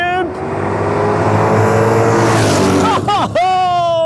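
Holden HQ engine at an Australian burnout event, roaring loud and sustained with dense droning harmonics, then rising in revs near the end with a sharp pitch sweep as the throttle blips; a voice can be heard faintly underneath.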